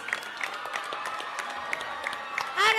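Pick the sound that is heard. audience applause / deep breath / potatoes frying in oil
audience applause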